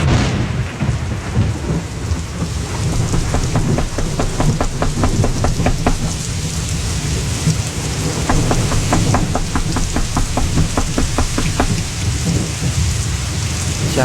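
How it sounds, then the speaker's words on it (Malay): Heavy rain pours steadily and loudly throughout, with rumbling thunder underneath and bursts of rapid drop-like patter on a surface, a dense, continuous storm with no voices. "Hujan masih turun dengan lebatnya"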